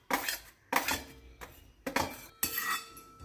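Sambar masala spices dry roasted in a pan over low heat with no oil, giving several close, bright scraping clinks of a metal spoon against the pan in separate bursts, with no talk.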